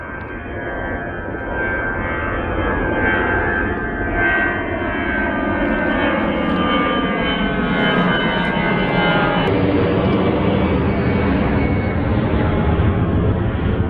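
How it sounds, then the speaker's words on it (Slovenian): An airplane takes off near Ronchi airport, its engine roar building from a distant rumble into a loud, sustained broadband drone with shifting tonal sweeps as it passes, alone without voices. "če imate srečo, lahko zraven ulovite še vzlet letala"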